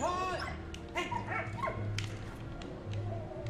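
A dog barks and yips in the war video game Valiant Hearts, a few short barks near the start, with someone talking over the game sounds.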